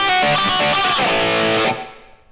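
A distorted electric guitar plays a song's intro riff, loud and dense with a few quick notes before a final chord rings out and decays.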